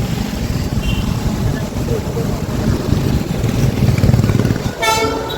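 A small toy train rumbles steadily past at close range, with a brief whistle toot near the end.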